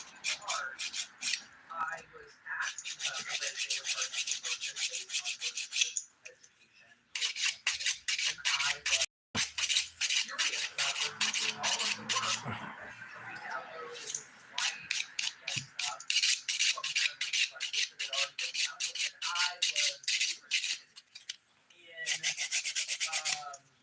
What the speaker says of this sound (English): Filing's going nice and easy.